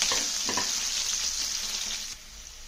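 Crushed garlic fries in hot oil with a steady, close hiss and crackle, joined by a few stirring scrapes early on; the sizzle drops and softens near the end.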